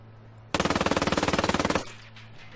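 A rapid machine-gun burst from the video game Ghost Recon Wildlands, about two dozen evenly spaced, loud, close shots over a second, then a quiet tail of room tone with no speech.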